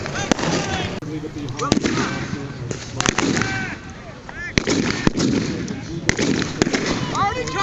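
Sharp gunshots crack repeatedly at irregular intervals amid chaotic battle noise, with voices shouting throughout.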